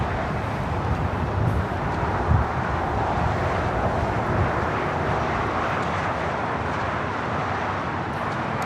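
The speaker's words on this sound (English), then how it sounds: "This is Air China Cargo 3126 taking off to Shenzhen on a 777 freighter." A Boeing 777 freighter jet taking off from LAX, a broad continuous engine roar heard from a distance with wind buffeting the microphone, steady and loud throughout.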